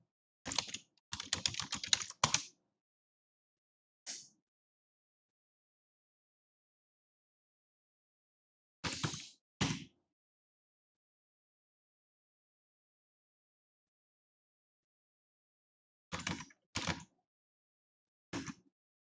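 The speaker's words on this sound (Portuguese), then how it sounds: "Vamos digitar o curso dele." Bursts of keystrokes on a computer keyboard, a quick run of typing followed by scattered short clusters separated by silence, close and fairly quiet.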